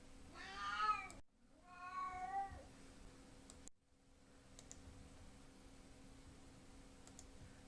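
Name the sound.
cat making strange sounds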